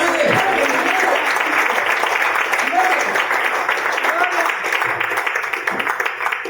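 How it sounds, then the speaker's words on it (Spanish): Church congregation at a Sunday sermon clapping for the Lord, a loud continuous wash of many hands with voices calling out over it. "dale un aplauso al Señor"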